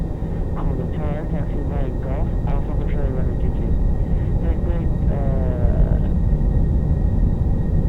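Boeing 747-400 engines at takeoff thrust in a home flight simulator give a steady, broad roar throughout, with voices talking over it.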